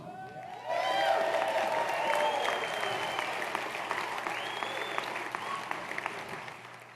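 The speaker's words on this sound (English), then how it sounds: "get ready to applaud" An audience at a roast of Sheriff Joe Arpaio breaks into applause, dense clapping rising sharply after a brief quiet start and continuing steadily, gradually thinning toward the end, with faint murmuring underneath.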